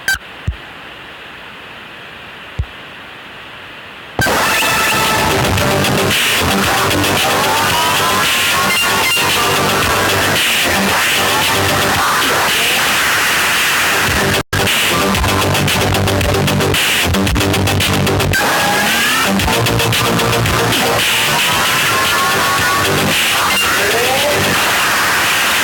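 Roaring, noisy motorbike engine in the video game Subway Surf, loud and steady after a quiet start with a brief dropout midway, with no talking over it.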